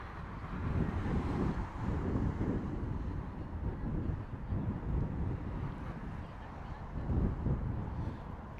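Wind buffets the microphone in low rumbling gusts at Heathrow Airport, swelling and easing over several seconds, with faint background sounds.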